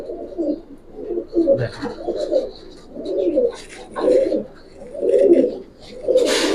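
Soft, low cooing from several Giribaz pigeons in repeated rounded phrases, fairly close, with faint rustling and brief chirps between calls.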